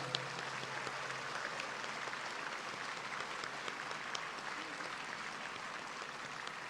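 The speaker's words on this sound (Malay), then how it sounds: "sama-samalah kita berikan tepukan yang gemuruh kepada ibu dan ayah" A large graduation ceremony crowd claps steadily and loudly throughout, a dense continuous roar of applause with no pauses.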